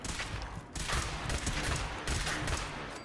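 Rapid bursts of gunfire aimed at Protectron robots in the game Fallout 4, loud and dense, with short volleys and a brief pause, close and continuous across the moment.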